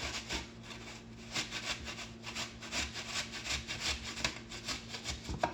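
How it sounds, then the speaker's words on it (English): Apples being grated by hand for haroset, a close, rhythmic rasping as the fruit is pushed repeatedly across a grater in steady strokes. "We're just going to grate these apples down."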